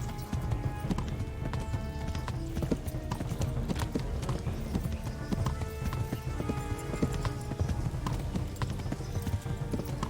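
Horse hooves gallop in the medieval video game Kingdom Come: Deliverance, a fast, steady clip-clop rhythm that keeps going without a break, with occasional faint game sounds behind it.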